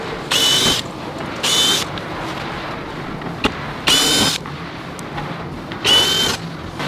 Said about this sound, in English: remove these two bolt covers. So it's two T27 Torx on top and two of the same bolt on the bottom